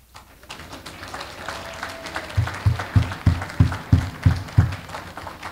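An audience at a graduation ceremony claps in rhythmic unison, with loud, evenly spaced hand claps building up after a quieter start. It is a crowd sound in a large hall.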